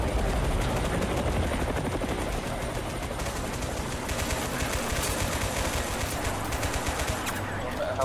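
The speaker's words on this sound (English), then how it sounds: "Uh-oh. Helicopters." A video game battle roars with dense, continuous machine-gun fire and rotor noise from attacking helicopters, loud and unbroken throughout with no pauses.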